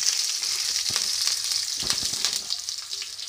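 Whole garam masala, bay leaves and a piece of cinnamon fry in hot oil in a pan while being mixed for homemade matar paneer. The sizzle is steady and loud, and a few soft stirring scrapes sound under it, with no voice.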